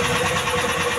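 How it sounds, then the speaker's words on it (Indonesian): A rice transplanter engine runs steadily after carburetor tuning, a continuous close mechanical drone with an even, unbroken idle and no talk. "Itulah hasil dari penyetingan atau penyetelan karburator mesin"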